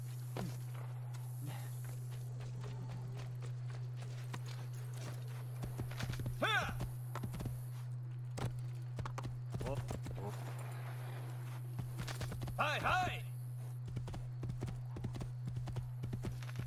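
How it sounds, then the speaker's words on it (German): Hooves clip-clop steadily in Assassin's Creed 2 as a horse moves along, with occasional whinnies, under a constant low hum and game sounds. "Ein Pferd."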